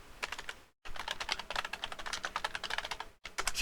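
Rapid, steady typing on a computer keyboard while a prompt is entered, a dense run of crisp key clicks with two brief pauses, no voices.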